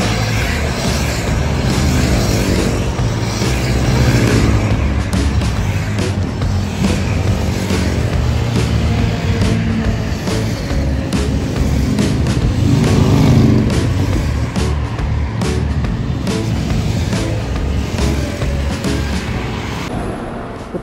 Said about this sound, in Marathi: हे आपली बाईक आणि आता चालली बघा रायडर रायडर्सची टीम